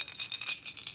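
A faint, fast metallic rattle from a demon dragon rattle bait alarm on a catfishing rod buzzes in quick repeated pulses, thin and high-pitched.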